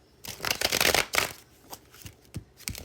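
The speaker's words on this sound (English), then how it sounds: "Feel like I needed to shuffle again." Tarot cards are shuffled by hand in rapid riffling bursts, close and crisp, followed by a few softer taps and slides as the deck settles.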